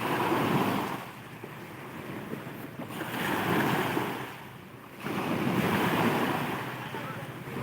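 Ocean waves wash onto a seashore where fishing boats sit, three rolling surges swelling and receding in turn, roughened by wind buffeting the microphone, with no talk over them.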